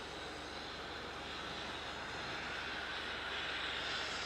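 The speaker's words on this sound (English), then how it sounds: "Now you've got Jetstar 528 going to Sydney next off 27." A Jetstar airliner takes off from runway 27 at Melbourne Airport, heard as a faint, steady, distant engine roar that holds evenly throughout with no talk over it.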